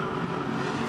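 Onboard a Ford XB GT Coupe touring race car at Bathurst, a loud, steady engine roar holding constant throughout with no talk.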